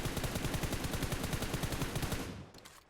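Rapid automatic gunfire from the video game PUBG Mobile, a steady rattling stream of close, loud shots lasting over two seconds before trailing off into a couple of fainter reports.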